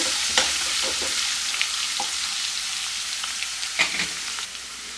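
Crushed garlic fries on a low flame in a pan, a soft continuous sizzle with occasional scrapes and taps of a spoon stirring, close and steady, no voices.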